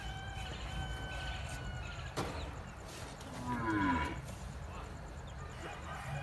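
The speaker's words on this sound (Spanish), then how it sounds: "Aquí están estas vacas también, buenas para la leche, ya están prontas para parir." Pregnant dairy cows and cattle near calving moo once, a drawn-out low call in the middle, amid constant farmyard background noise and a voice talking.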